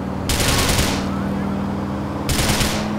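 Automatic gunfire from Grand Theft Auto IV, played with mods, rattles out in two loud, dense bursts, one lasting most of the first second and a shorter one near the end, over a steady low engine-like hum.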